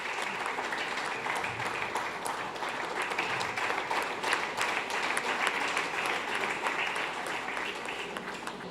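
An audience gives a guest a steady, enthusiastic round of clapping at a gospel film release event, a continuous even roar of many hands throughout.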